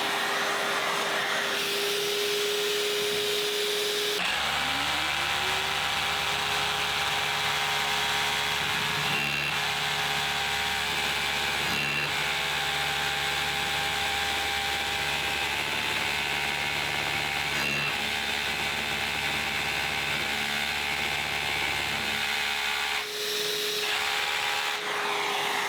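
A Festool KHC 18 cordless rotary hammer drilling with its dust extraction attached, giving a loud, steady motor whine and hum that holds for about twenty seconds with brief dips, then stops.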